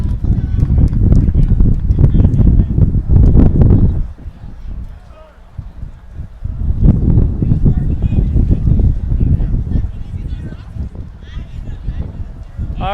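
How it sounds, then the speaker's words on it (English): Strong wind sweeps across a baseball field, blowing dirt around and roaring in loud, buffeting gusts that ease briefly in the middle before picking up again. "It's very windy. There's a lot of dirt blowing around."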